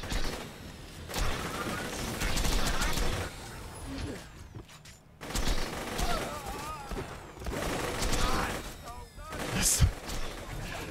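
Bursts of gunfire from a weapon in Borderlands 2, loud repeated shots in clusters with mechanical clacks, separated by brief pauses, with game sounds mixed in.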